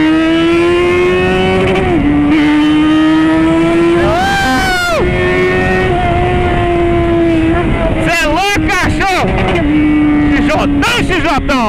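A Yamaha XJ motorcycle accelerates hard, its engine note climbing and dropping through gear changes, loud and close with a strong rising whine and sharp shifts near the end.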